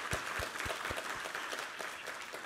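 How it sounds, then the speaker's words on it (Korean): A church congregation applauds together during a Sunday worship service, a steady wash of clapping with a few sharper claps standing out near the start. "우리 하나님께 감사와 영광의 박수 올려드리겠습니다"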